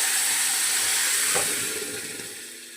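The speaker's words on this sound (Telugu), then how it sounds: "మనం ఏదైతే రెడీ చేసుకున్నామో పప్పుని ఇందులో తాలింపు పెట్టేసుకోవాలి" Hot tempering poured into cucumber dal sets off a loud, bright sizzling hiss with a sharp burst partway through. The hiss then slowly fades as the oil settles.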